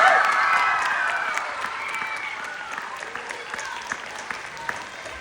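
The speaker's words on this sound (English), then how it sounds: "Let's give them another round of applause," Audience applause at a spelling bee contest: dense, sustained clapping that starts loud and slowly tapers, with crowd noise and some voices mixed in.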